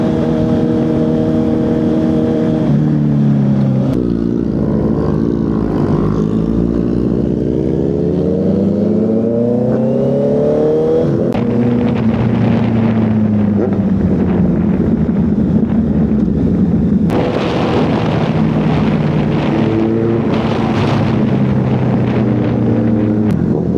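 A Honda CB650R motorcycle with E-Clutch is being ridden; its engine drones steadily, with the pitch climbing and falling as the revs change, under constant wind rush from the ride.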